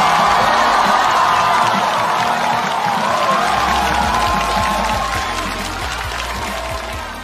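A large studio audience at a Chinese comedy roast show claps and cheers steadily to welcome Yang Chaoyue, a dense, loud wash of applause with scattered whoops that slowly fades over several seconds.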